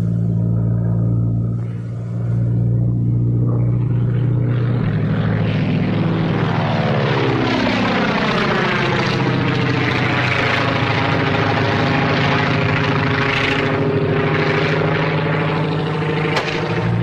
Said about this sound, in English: Just spotted kid's plane with smoke attachment.